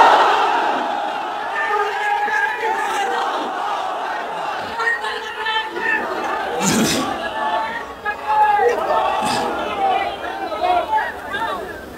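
A large crowd at an outdoor political rally in Madhukhali, Faridpur, shouts a chant in answer to a Takbir call. The mass of voices is loud and goes on the whole time, with a few sharper bursts near the middle.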